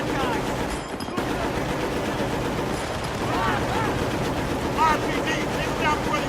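Mounted machine gun firing in the video game Battlefield: Bad Company, rapid continuous bursts amid battle noise and shouting voices, loud and dense throughout.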